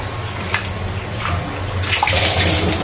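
Fish and tomatoes being rinsed in a basin of water for a Filipino kinamatisan dish, with steady splashing and sloshing that swells near the end, close and fairly loud with no talk.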